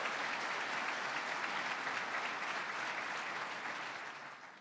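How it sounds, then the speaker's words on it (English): Sustained audience applause fills a large hall at a governor's 2020 State of the State address, a steady dense wash of clapping that holds and then starts to fade at the end, with no one speaking over it. "Kathy Hochul, let's give her a round of applause"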